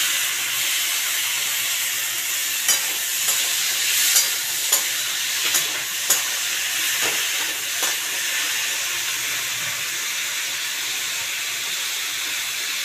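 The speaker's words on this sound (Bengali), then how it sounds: "ডুমুর আমি দিয়ে দিলাম কড়াইতে।" Boiled figs are stir-fried in a wok for a fig and prawn dish, a steady hissing sizzle broken by a few sharp scrapes and clicks from stirring, heard close with no talk.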